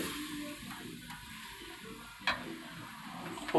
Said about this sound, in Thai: ใช้น้ำในการช่วยผัดได้นะครับ อย่างนั้นเดี๋ยวกระเทียมจะไหม้ซะก่อน